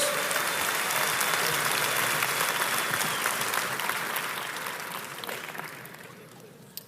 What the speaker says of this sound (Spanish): Un aplauso al Señor. Vamos, más fuerte por lo que Él hizo por nosotros.